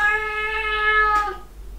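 A cat gives one clear, drawn-out meow close by, tonal and rising slightly before trailing off, heard alone indoors with a faint low hum beneath.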